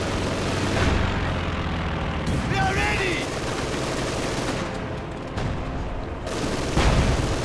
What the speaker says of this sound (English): Another one though shot down here by the flak panzer.